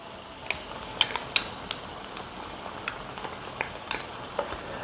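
Diced tomatoes, onions and ketchup stirred in a pan for Sloppy Joes, with a soft steady sizzle beneath and several sharp scraping clinks of the spoon against the pan, close and fairly quiet.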